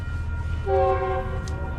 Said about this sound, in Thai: การขึ้นรถไฟครั้งแรก